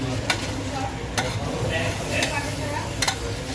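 About 2 kg of chicken pieces go into spices frying in a pan for kosha mangsho, giving a steady close sizzle with scraping stirs and occasional utensil clicks on the pan.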